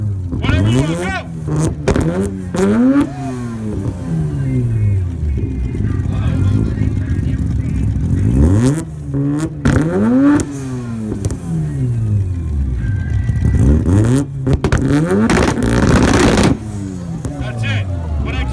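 Car exhausts revving hard at a Westbury Toyota car show exhaust battle, repeated loud engine blips rising and falling in pitch, close by, with a crowd cheering and people shouting over them.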